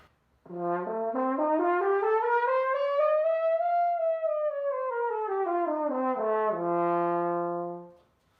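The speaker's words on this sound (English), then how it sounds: "We call that the harmonic series, and that sounds like this." A brass instrument steps up through a rising series of notes, peaks, then steps back down to the low starting pitch, played alone and close.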